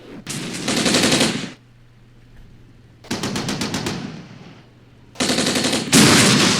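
Three loud, sharp bursts of rapid automatic gunfire from the tank war game Armored Brigade, each lasting a second or two and separated by short quiet gaps, close and with no speech.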